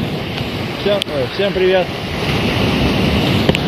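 Sea waves and wind on a beach make a steady rushing wash with gusty wind noise on the microphone, under a man's speech and a few brief whistle-like tones.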